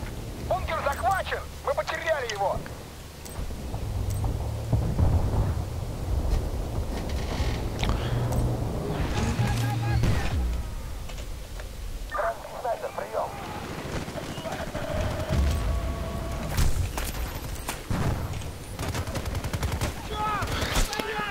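Mortar strikes and gunfire in the video game Battlefield: Bad Company 2, with rattling bursts and booming impacts running steadily for about twenty seconds, loud and dense, with game voices at times.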